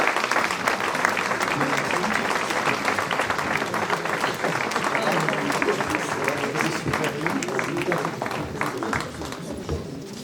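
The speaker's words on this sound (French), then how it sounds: "je pense qu'on peut les applaudir bien sûr" An audience at a New Year's wishes ceremony applauds volunteers, a dense, sustained clapping that carries on for about ten seconds before easing slightly at the end, with voices mixed in.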